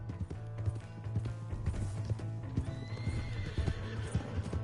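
A horse in the Red Dead Redemption 2 game gallops with quick rhythmic hoofbeats and lets out a loud whinny, the clip-clop running steadily under game ambience without speech.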